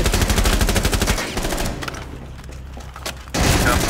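Rapid automatic gunfire bursts in a Rainbow Six Siege–style favela defence match, loud and dense at the start, thinning to scattered shots mid-way, then a heavy burst returns at the end.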